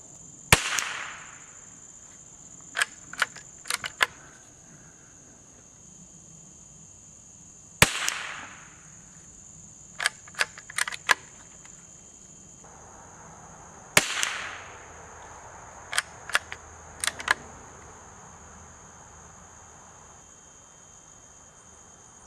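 A .22 rimfire rifle firing high-velocity ammunition outdoors in summer: three loud, sharp cracks about six seconds apart, each followed by a quick cluster of fainter clicks, over a steady high insect drone.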